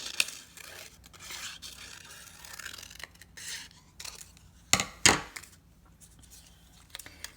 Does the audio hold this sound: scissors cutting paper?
yes